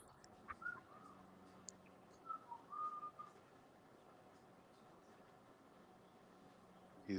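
A person whistles to a pet bird in a quiet room, a few short faint whistled notes and trills coming in brief bursts over a low background hiss.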